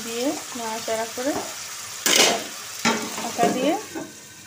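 Salted chowmein with potato and onion is stirred in a hot pan, the sizzle broken by short bursts of spatula scraping and a brief voice in the background.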